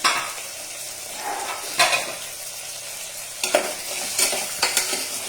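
Moringa drumstick pieces fry in Amul ghee in a pan, giving a steady sizzle broken by loud stirring scrapes and spoon clinks against the cookware, with no talking.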